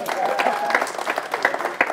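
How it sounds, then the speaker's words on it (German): Studio audience applause on a German quiz show pitting young people against top politicians, a steady wash of clapping with crowd noise and some voices mixed in throughout. "Applaus."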